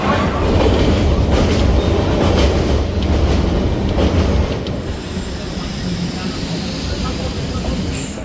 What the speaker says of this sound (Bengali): আর নৈহাটি স্টেশন থেকে আমাদের ট্রেন ছাড়লো।